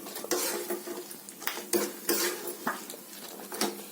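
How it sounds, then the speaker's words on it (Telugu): A tempering of chana dal, mustard seeds and peanuts fries in oil in a pan, giving a steady crackling sizzle broken by sharp clinks and scrapes of a spoon against metal. "ఇదిగోండి తాలింపు వేగుతోంది"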